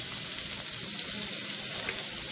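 Capsicum, carrot and green chilies frying in a pan give a steady, close sizzle that stays even and continuous throughout, with no one talking.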